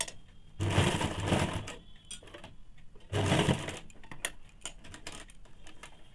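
A sewing machine stitching a zipper into palazzo pants runs in two slow, deliberate bursts of rapid ticking clatter, close by and fairly quiet, with a lighter mechanical tapping between runs.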